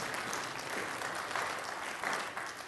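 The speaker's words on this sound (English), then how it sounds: "You can clap if you want." A church audience claps in a brief, faint, steady patter that sounds somewhat distant.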